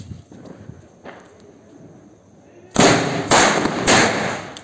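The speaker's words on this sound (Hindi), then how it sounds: "ब्लू स्टार फायरवर्क के सेवन शॉट को, और देखते हैं ये किस तरह का साउंड प्रोड्यूस करता है" Blue Star seven-shot firework being set off, a quiet stretch of faint rustling followed by a loud run of three to four bursting pops close by, each with a noisy crackling tail.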